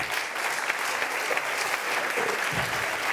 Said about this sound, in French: Il est... il est là, on peut l'applaudir, voilà.